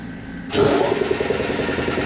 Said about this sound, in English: And there goes the air compressor.